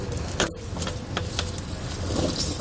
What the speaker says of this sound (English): Now we're going to take our chains here, we're going to drape them over the tread on our tires.